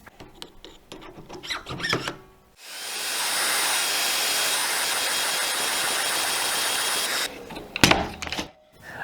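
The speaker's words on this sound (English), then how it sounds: "I'm just going to grab my drill and chuck it up in here" A handheld drill spinning a router bit in a Kreg Mortise Mate jig cuts a mortise, a loud steady high whine lasting several seconds, with clattering handling noises before and after.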